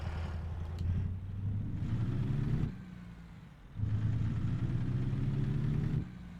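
A truck engine in American Truck Simulator drones and pulls steadily through two long acceleration runs, pitch rising in each before a brief easing off, heard from the cab with no talk.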